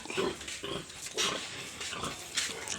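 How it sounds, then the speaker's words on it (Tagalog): Sows on a pig farm at night grunt and snuffle in short, repeated bursts, moderately close and fairly quiet, with no talking over them. "napakadami ng baboy dito. Daming mama pig."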